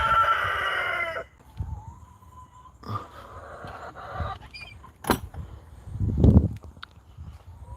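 A rooster crows loudly at the start, then scattered hen clucks and squawks follow at moderate distance, with quiet gaps between.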